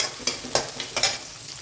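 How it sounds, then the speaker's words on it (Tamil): Onions deep-fry in a pan for a spicy drumstick kara kuzhambu: several crisp spatula scrapes over a bright, close sizzle, roughly one every half second. "பாருங்கள், ஆனியன் இந்த அளவுக்கு நல்லா செவந்து வரணும். இன்னும் 2 நிமிஷம் நல்லா டீப்பாக ஃப்ரை ஆகட்டும்."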